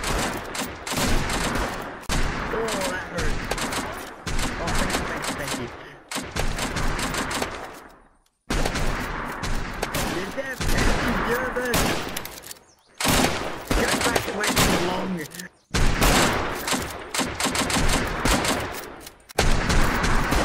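Sustained bursts of Lewis light machine gun fire in the Unturned game, loud and dense, broken by a few brief pauses between long volleys, with voices talking over parts of it.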